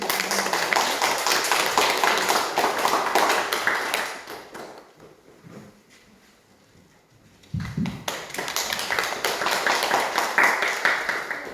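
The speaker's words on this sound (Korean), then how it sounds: "박수로 환영해 주시기 바랍니다" Church congregation clapping in welcome at a Sunday service, loud continuous applause that fades to near silence midway, then resumes with renewed clapping after a brief thump.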